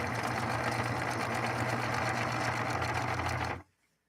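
A Singer 9410 sewing machine running a 3-point zigzag stitch hums and whirs at a constant, close, even pace, then stops suddenly into near silence.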